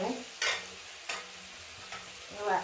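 Ingredients sautéed in a pan with salt, a few distinct scraping stir strokes over a steady sizzle, close and fairly loud, without speech.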